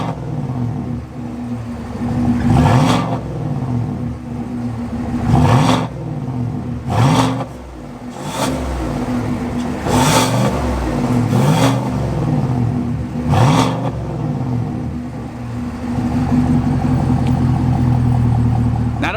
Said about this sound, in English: you can clearly tell a difference in how the exhaust sounds